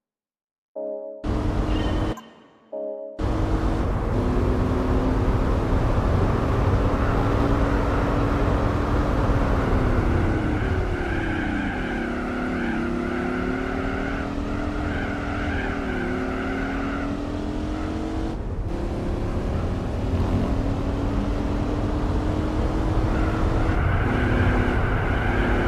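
Dodge Viper engine in Gran Turismo 4 on the El Capitan track, a loud continuous V10 drone rising and falling through gear changes over about 25 seconds, with brief tire squeal, no talk.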